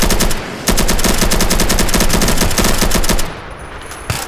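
Gunfire in the zombie video game Unturned, rapid loud automatic bursts hammering continuously for about three seconds before trailing off.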